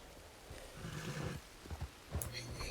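A horse in the Red Dead WildRP game gives a faint snorting, whinnying call with soft hoof clops, low and somewhat muffled under a hazy background.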